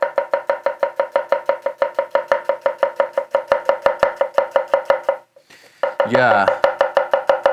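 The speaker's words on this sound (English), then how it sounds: "let's do a little julienne onion to finish off our testing of this knife" A Hatsukokoro Kurouchi Birch kitchen knife julienning an onion makes a steady, fast series of crisp chops on a cutting board. The chopping pauses briefly while someone speaks, then resumes at the same even rhythm.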